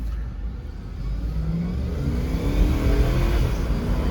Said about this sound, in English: That old 4-liter 6 is smooth, man. Got some guts.